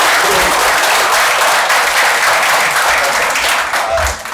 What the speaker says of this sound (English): may I ask you to applaud my panel